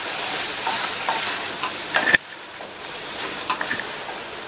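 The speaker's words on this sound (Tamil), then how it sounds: "சேர்த்த இந்த சுரைக்காயை நல்லா மசாலாலேயே ஒரு 2 நிமிஷத்துக்கு நல்லா பெரட்டி விட்டுக்கங்க" Bottle gourd pieces being stir-fried in a masala, a steady broadband sizzle with scraping stir strokes and a sharp clatter near the middle, close and fairly loud, with no talking.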